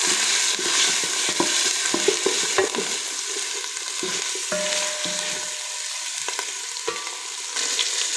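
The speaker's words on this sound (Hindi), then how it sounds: "चिकन को भी इसमें अच्छी तरह भून लीजिए।" Chicken pieces are sautéed in a pan for a hot and sour soup, with a steady frying hiss broken by repeated spatula scrapes and clinks. No one speaks.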